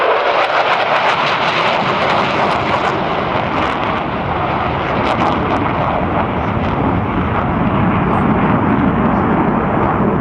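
Heritage Flight aircraft passing over the Sanicole Airshow, a loud, continuous broadband engine roar that holds steady throughout, with wind buffeting the microphone.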